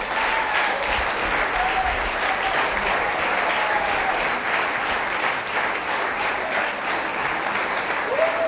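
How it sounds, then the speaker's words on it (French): Audience applause at a stage show, a loud, dense wall of clapping sustained evenly from start to finish with a few faint voices and cheers mixed in. "Antoine, applaudissements pour eux s'il vous plaît."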